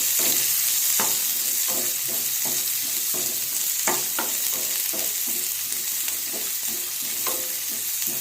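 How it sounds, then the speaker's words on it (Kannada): Finely chopped onions and cumin seeds sizzle in hot oil in a pan, a dense continuous crackle with a soft steady hiss and occasional light stirring clicks. "ಸಣ್ಣದಾಗಿ ಕಟ್ ಮಾಡಿರೋ ಉಳ್ಳಾಗಡ್ಡೆ ಹಾಕ್ತೀನಿ ರೀ ಚೆನ್ನಾಗಿ ಫ್ರೈ ಮಾಡ್ತಾರೆ"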